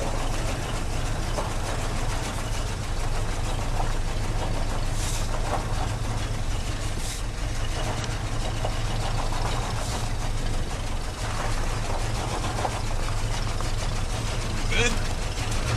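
A 1984 Ford F150 engine idling with a rod knock, a low steady rumble with a faint repetitive tapping running throughout, fairly close and continuous with no talk.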